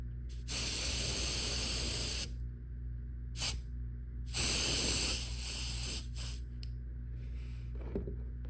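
Base coat paint sprayed onto a tail-spinner fishing lure, close hissing bursts of a few seconds each, the first and a later one longer with short puffs between, over a steady low hum.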